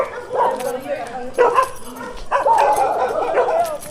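A dog yips, whimpers and gives short barks in several bursts, close and fairly loud, with people talking around it.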